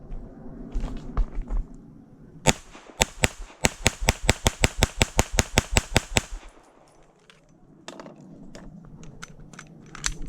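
Kimber KDS9C 9mm pistol firing at a range: a rapid string of about twenty sharp, loud shots in quick rhythm, with scattered single shots and outdoor background before and after.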